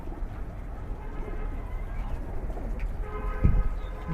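Soft, low cooing of a pet pigeon close by over a rumbling background, with a slightly louder coo near the end.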